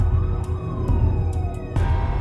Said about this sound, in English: he suddenly started to hear police sirens outside